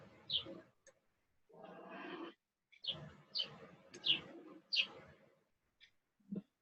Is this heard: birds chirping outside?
yes